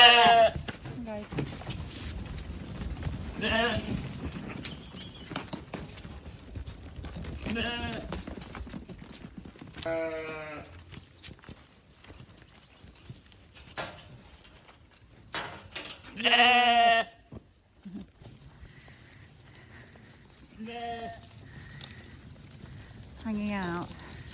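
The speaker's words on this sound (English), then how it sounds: "These are the lambs." Lambs bleating at intervals on a farm in autumn around weaning, several separate near and farther calls, with someone talking in between.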